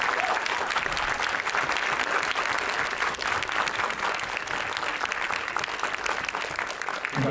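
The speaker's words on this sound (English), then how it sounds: "let's give all these wonderful young creatives a huge round of applause." Sustained audience applause fills the room at an awards night for young creatives, a dense, even wash of many hands clapping that carries steadily without pause, near and fairly loud.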